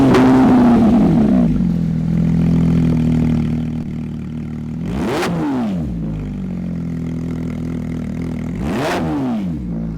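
Porsche GT4 RS with an aftermarket exhaust idles with a deep steady rumble. Two sharp blips rev the engine hard, one near the middle and one near the end, each rising quickly and falling back to idle.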